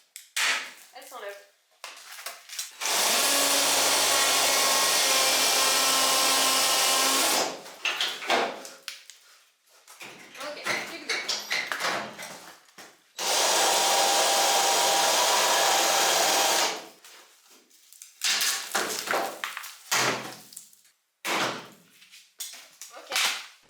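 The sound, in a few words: new angle grinder cutting 2CV car body sheet metal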